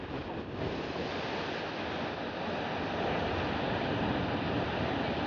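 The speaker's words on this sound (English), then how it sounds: "Okay, we should get some wave sounds here as well." Ocean waves wash steadily against the shore, a continuous broadband surf roar captured by the built-in microphone of a DJI Neo drone, with some wind noise and no voices.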